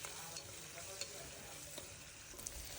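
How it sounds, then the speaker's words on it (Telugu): Onions fry in oil in a kadai with curry leaves and salt, giving a continuous dense sizzle with a few faint stirring clicks, close and steady. "ఆనియన్స్ బాగా వేగనివ్వాలి"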